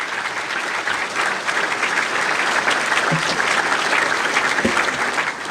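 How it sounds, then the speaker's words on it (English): An audience applauds a speaker at a Chicago address marking the 200th anniversary of the Fort Dearborn Massacre. The clapping is steady, dense and sustained throughout, with a couple of brief low thumps partway through. "how about a big round of applause for our speaker?"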